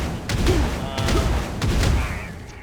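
A wizard's Concentrated Blast skill fired in Black Desert Online lands as three heavy booming bursts, each with a sharp crack and a rumbling tail, spaced roughly half a second apart over a steady game backdrop.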